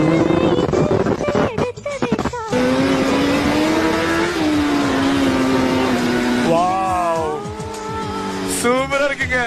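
Tuned Suzuki Hayabusa motorcycle with an aftermarket exhaust revving hard, a loud close engine roar rising and holding for several seconds before the throttle drops off, then a few shorter blips as voices talk over it.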